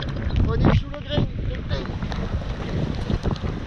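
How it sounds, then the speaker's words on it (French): A rain squall sweeps over a cruising sailboat in the Antilles, gusty wind buffeting hard against the microphone with a rushing wash of rain and water, surging louder at the start, under scattered speech. "On est bien, on est sous le grain."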